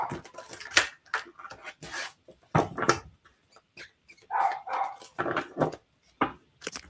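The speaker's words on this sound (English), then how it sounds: "Is my dog barking really loud?" Two dogs, one small and one larger, bark repeatedly at close range in short irregular bursts with brief pauses and a few higher yips mixed in.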